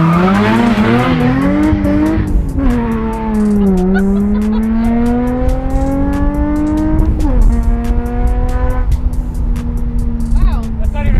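A Nissan 350Z spins its tires with loud, sustained squealing while the engine revs high and shifts pitch, close and intense; people talk over the noise.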